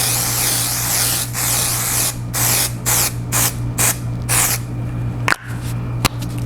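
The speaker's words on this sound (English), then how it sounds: "Let me spray the other side too." Makeup setting spray mists onto a face in a run of short hissing bursts, one after another, close to the microphone, followed by a couple of faint clicks.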